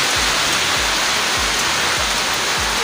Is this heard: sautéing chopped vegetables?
no